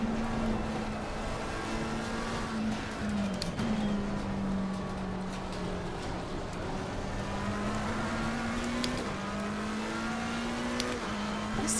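McLaren 720S Evo race car engine in Assetto Corsa Competizione, Team Iris #77 at Zandvoort, droning steadily near and loud with a slowly rising and falling pitch, no speech.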